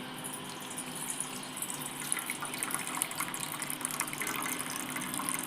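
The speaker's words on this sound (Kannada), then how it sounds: "ಈಗ ಇದನ್ನು ಮೇಲೆ ನೀರನ್ನ ಬಗ್ಗಿಸ್ತಾ ಇದ್ದೀನಿ." Water is poured into cooked lentils in a pressure cooker, a soft steady trickle and splash, close and faint.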